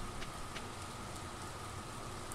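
Steady rain falls in the Stardew Valley farming video game, a soft, even hiss of drops that continues unbroken with no talking.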